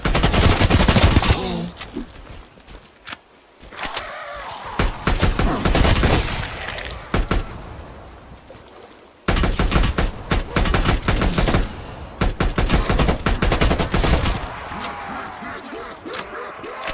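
Rapid bursts of automatic gunfire and single shots in Call of Duty Cold War Zombies, loud and close, broken by short pauses and mixed with game effects.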